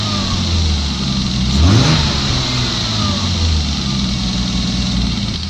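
Six-cylinder car engine running after repair: a loud, close idle rises into one quick rev and then settles back to a smooth, steady idle.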